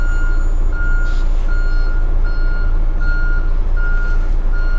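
A truck backs up with a steady series of evenly spaced reversing beeps over a loud, constant engine rumble, close by and with no talk.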